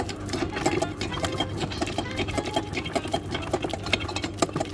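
A stand mixer kneads croissant dough with unsalted butter and no eggs, producing a steady close motor whir with a fast, even patter of dough slapping the bowl, without any voices.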